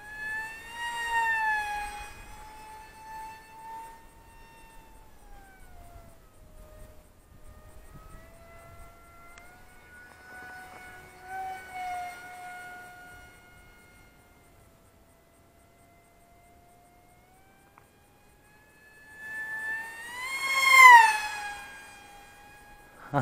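A converted pusher Eachine F16 jet with a 50mm electric ducted fan flies at about 80% throttle, its high tonal whine loud on close passes at the start and end and fading to a faint, drifting tone in between.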